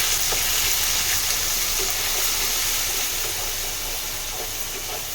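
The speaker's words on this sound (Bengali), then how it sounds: "একটু ধনের গুঁড়ো আর একটু জিরের গুঁড়ো, লঙ্কার গুঁড়ো একটুখানি দিয়ে এটাকে আমি ভালো করে ভেজে নেবো মশলাটাকে" Coriander, cumin and chili powder fry in a pan for coconut chana dal, producing a continuous loud close sizzle and hiss with faint stirring taps and no talk.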